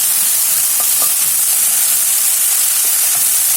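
Broccoli and beef sizzling in a stir-fry pan, a loud, dense, continuous hiss of frying with a few brief crackles, close and steady with no voices.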